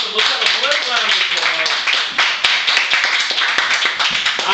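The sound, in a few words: audience applause after a report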